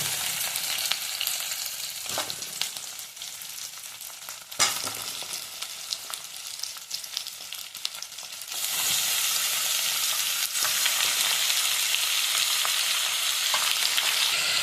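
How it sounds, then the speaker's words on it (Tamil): Chicken pieces sizzle and fry in a pan with softened onions, a steady loud crackle that jumps brighter and denser partway through, with occasional stirring scrapes. "இந்த ஸ்டேஜில் வந்து சிக்கனை போட்டுக்கோங்க"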